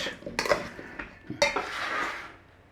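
Brussels sprouts tossed in a honey mustard glaze in a bowl, with a few sharp clinks of a utensil against the dish followed by wet swishing, close and clear, without speech.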